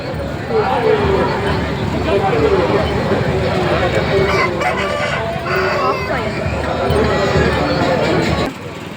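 Chickens cluck and crow during a chicken lucky draw at the Katapadi Kambala buffalo race, amid a noisy crowd with people talking over a dense, continuous hubbub.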